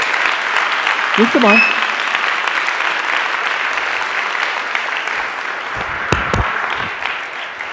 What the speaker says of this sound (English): a big round of applause for Bryan Lunduke